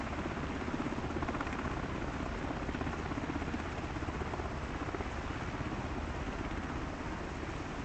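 Mi-17 military helicopters on the ground give off a steady, dense rotor and turbine roar that holds without a break throughout, at a moderate distance, with no talk.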